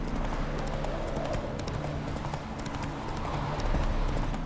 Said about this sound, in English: when I'm riding my horse I frequently get stuck on shit randomly